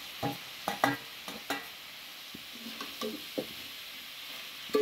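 Fried bitter gourd and jackfruit seed curry being stirred in a pan, heard as a series of sharp spoon scrapes and clinks in an irregular rhythm over a faint sizzle.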